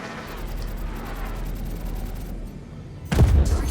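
Ship weapons fire in a Star Citizen space battle, heard as a dense, sustained rumble of rapid shots that drops briefly and then returns louder and heavier near the end.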